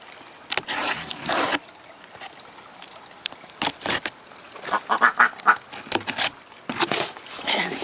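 Ducks quack in short bursts and clusters, fairly close, separated by quieter stretches with faint rustling and water-like noise.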